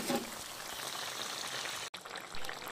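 A pointed gourd curry cooks in a pan with a small amount of added water, giving a soft, continuous bubbling and sizzling hiss up close, with a brief break near the end.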